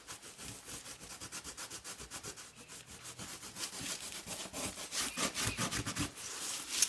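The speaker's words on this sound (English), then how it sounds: "my paste is holding up through all that scrubbing I'm doing" Homemade texture paste being scrubbed and wiped by hand, a steady rough rubbing that swells louder and faster toward the end, close and alone with no talk.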